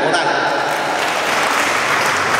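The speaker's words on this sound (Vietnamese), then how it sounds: "chúng ta vẫn cho hai anh một tràng pháo tay." A crowd at the 2017 launch ceremony of a badminton club in Suoi Nho, Vietnam, gives a sustained round of applause. The dense clapping is loud and continuous.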